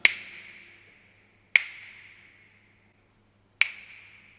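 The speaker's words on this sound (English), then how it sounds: "But if I snap my fingers," Three sharp finger snaps in a hallway, spaced irregularly, each trailing a clear ringing decay as the sound reflects off the far end. The snaps are close and crisp, with quiet in between.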